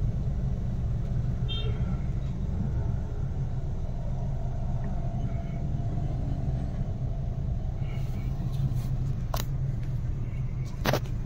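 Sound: car engine running during a driving lesson

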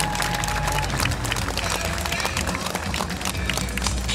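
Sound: audience applause for stunt rider

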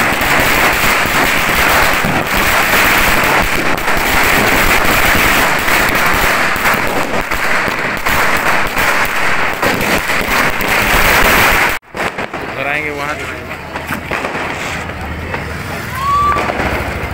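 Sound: firecrackers being set off at Diwali

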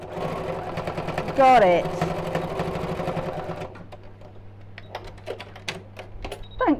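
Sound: sewing machine sewing elastic loop onto towelling turban

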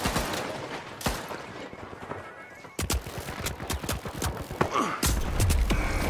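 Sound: rockets firing in The Finals video game

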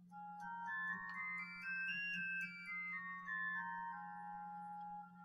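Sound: simulated Arnstadt Bach organ sesquialtera stop alone

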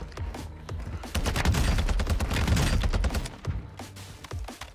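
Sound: TAQ-V rifle gunfire in video game Warzone 2

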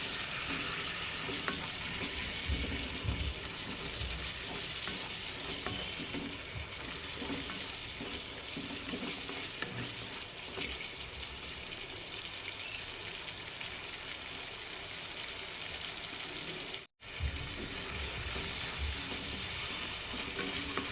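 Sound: frying turmeric and chili powder masala in oil

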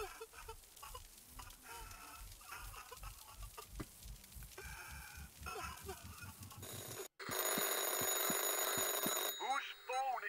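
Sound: phone ringing in horror video game Anthology of Fear

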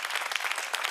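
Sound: studio audience applause

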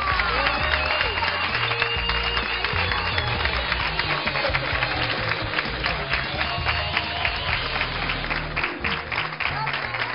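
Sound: audience applauding

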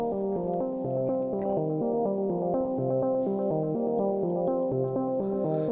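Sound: bass melody line played on Korg Wavestate synthesizer

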